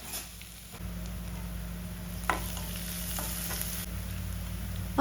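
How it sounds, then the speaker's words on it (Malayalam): Onions and kanthari chillies sautéing in a pan for crab thoran, a steady sizzle with occasional stirring scrapes, close and moderate in level. "ഇനി നമുക്ക് ഇതൊന്ന് വഴറ്റിയെടുക്കാം"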